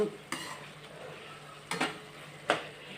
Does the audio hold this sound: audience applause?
no